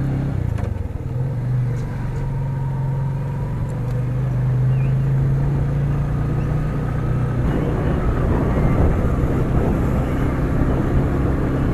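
A vehicle sets off on the ride home from a Digha and Tajpur trip, with a loud, steady low engine drone close by and rising rumble and road noise toward the end.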